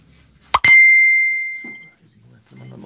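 A single bright chime from a mobile phone notification rings out after a short tap and decays slowly, followed by faint murmuring voices nearby.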